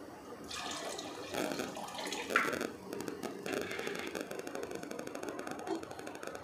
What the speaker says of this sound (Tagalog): Tapos mag-a-add pa ako ng konting tubig.